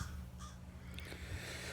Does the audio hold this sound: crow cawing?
yes